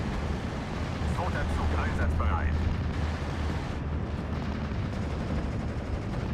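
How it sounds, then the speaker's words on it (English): Mortar fire in the WWII strategy game Steel Division: Normandy 44 rumbles as a dense, continuous barrage of muffled booms and crackling gunfire, with faint voices under the din. "It's mortar fire coming in from the centre."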